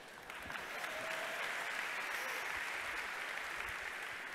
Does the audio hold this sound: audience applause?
yes